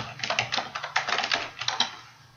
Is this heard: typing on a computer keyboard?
yes